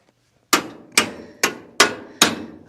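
Six loud, ringing hammer blows at an even pace knock bolts out of a destroyed 1958 Willys front axle, each strike sharp and close with a short metallic decay.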